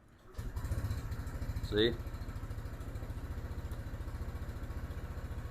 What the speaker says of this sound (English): Now you have to make sure that your engine is idling correctly as well.